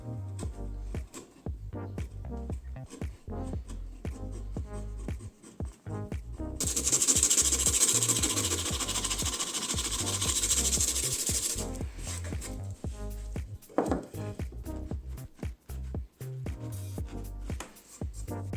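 Rasping, scraping strokes of a tool beveling a wooden axe handle, with a sustained louder stretch of rough friction in the middle and intermittent knocks around it.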